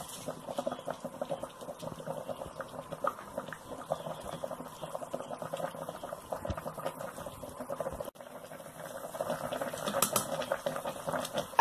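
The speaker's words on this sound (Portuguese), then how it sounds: "agora eu vou deixar cozinhar até dar uma secada bem básica aqui nesse molho" Pork sauce with potatoes simmering in a pot, a steady close bubbling and light sizzle running throughout without talk.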